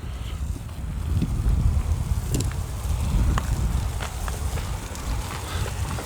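Steady gusting wind buffets the microphone outdoors during a foam-cannon car wash, a low rumbling roar with faint scattered clicks and no voices.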